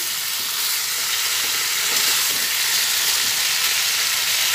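Vegetables and fried lentil dumplings being stirred in a hot pan give a steady, loud sizzle with a soft scraping of the stirring, continuous and close with no talk.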